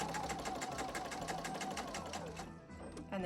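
A domestic sewing machine stitches along the edge of a quilt, a fast steady mechanical whir with rapid needle rhythm that slows near the end, with someone speaking over it.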